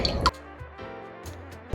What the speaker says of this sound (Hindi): अब गुड़ को हम छलनी से छान लेते हैं।